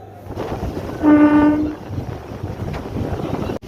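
A train stands at Lakshmikantapur station on a foggy morning, and its horn gives one loud, steady blast of about half a second over a rumbling idle, with no voices.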